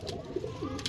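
Domestic pigeons in a fancier's loft give a brief, soft, low coo, with a couple of faint chirpy notes around it, all within about a second.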